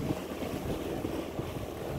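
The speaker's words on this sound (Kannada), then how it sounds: "ಸಮುದ್ರ ಮತ್ತು ಹೊಳೆ ಎರಡು ಸೇರುವ ಸಂಗಮದಲ್ಲಿ ಹೋಗ್ತಾ ಇದ್ದೀವಿ." Fishing boat crossing choppy waves where a river meets the sea, with a steady low engine and water rumble and gusty wind buffeting the microphone throughout.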